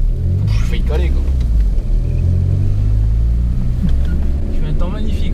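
A Peugeot 306 turbo diesel engine rumbles steadily and loudly from up close, a deep continuous drone heard from inside the car. A voice talks over it at times.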